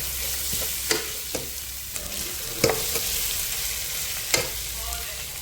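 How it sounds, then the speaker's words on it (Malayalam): Onions sauté in a pan for chicken biryani, giving a constant close sizzle with a few sharp stirring clacks scattered through it and no voices. "അപ്പോൾ നമ്മുടെ സവാളയൊക്കെ നന്നായിട്ട് വഴണ്ട് വന്നിട്ടുണ്ട്"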